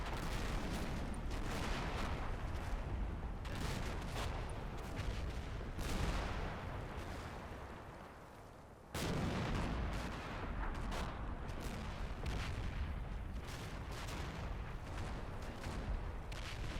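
Tank gunfire and shell hits from the WWII video game Combat Mission Final Blitzkrieg at Stavelot, a continuous battle din of repeated booms and crackling shots with heavy rumble and one loud blast partway through, with no talking.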